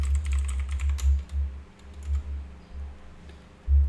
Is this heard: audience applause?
no